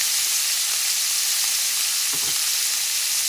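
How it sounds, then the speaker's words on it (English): Unsalted butter sizzles and fries loudly in a hot pan with tri-tip steak, a constant close hiss with a brief soft stir or scrape partway through and no voices. "I'm going to add some butter, unsalted butter. It's going to create some smoke because of the butter."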